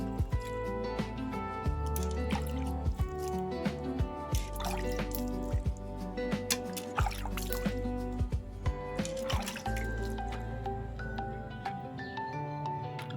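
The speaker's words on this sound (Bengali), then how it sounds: "এবার আমরা এতে জল দিয়ে দেবো। জল দিয়ে দিচ্ছি গাছটিতে।" Water poured from a container onto soil around a newly potted Sri Lankan jasmine plant, with steady splashing, dripping and trickling close by that runs continuously with small irregular bursts.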